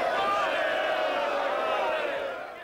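Angry crowd of gun supporters at a 1996 rally opposing tougher gun laws, a loud mass of overlapping shouting and raised voices that fades slightly at the end.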